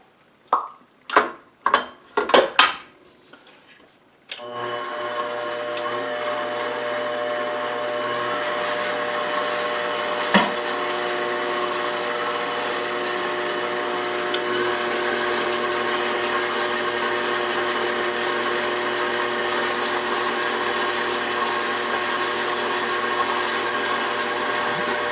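A stand mixer kneading hot cross bun dough: a few sharp knocks at the start, then the motor kicks in and runs at a steady whirring hum with a faint rhythmic churn for the rest of the time.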